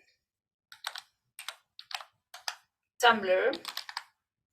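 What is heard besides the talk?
typing on computer keyboard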